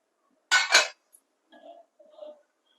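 Metal kadai pan set down on a stove burner in a home kitchen, one sharp double clank up close followed by a couple of fainter light knocks.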